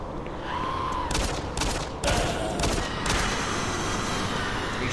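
Gunfire from the video game DOOM 3 comes in several loud, sharp blasts, some grouped in rapid bursts, over constant dense game background noise.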